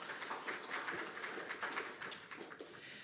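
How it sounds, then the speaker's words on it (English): Applause from an online panel audience at a mental health event, a steady, moderately faint patter of many hands clapping for the full stretch, with no voices over it. "Maybe you'd give them all a wee round of applause."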